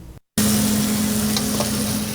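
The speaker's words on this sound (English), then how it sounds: "Things are sizzling at KC Steakhouse." Steak sizzles at KC Steakhouse, an outdoor restaurant setting, with a steady loud frying hiss that continues unbroken after a brief cut at the start, over a low electrical hum.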